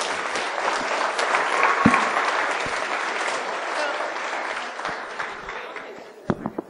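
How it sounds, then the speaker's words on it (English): Sustained applause from an audience at a cannabis association talk, a dense steady wash of clapping that swells briefly before thinning out, with a few louder nearby claps at the end. "How about a round of applause?"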